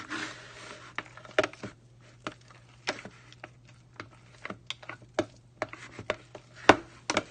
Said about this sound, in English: You want to stir these in here.